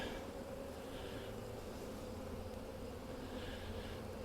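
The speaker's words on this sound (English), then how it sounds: "The bees are in the honey here." Dense, steady buzzing of many honey bees inside an open hive that is low on stored honey, a close, even drone that continues throughout without speech.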